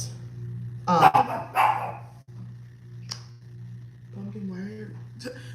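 A puppy barks in a few sharp bursts at close range, indoors over a steady low hum, followed by a softer whine and a brief yip later on.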